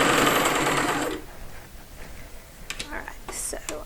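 A sewing machine stitches fabric in a short loud whirring burst at the start, then stops, leaving faint handling noises and light rustling.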